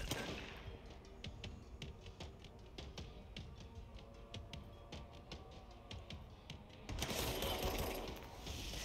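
Shotgun fire in the action video game Control comes as a rapid run of sharp, loud cracks over a busy combat soundscape, closing in a louder burst of noise near the end, with no talking heard.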